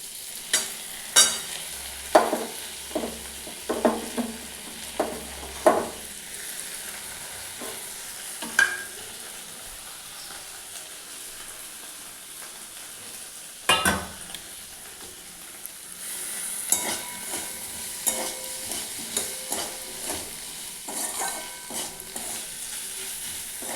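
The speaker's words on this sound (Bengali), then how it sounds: "এবার আমি এতে একটু মশলা দেব, জিরে ধনে" Cumin, coriander and dry chili paste frying in a pan while being stirred, with soft sizzling under irregular scraping and clinking strokes of the utensil, close and moderately loud.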